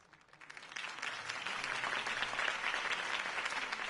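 Applause from a campaign rally crowd after a mayoral candidate's speech swells from a faint start into a dense, sustained wash of clapping that holds steady to the end.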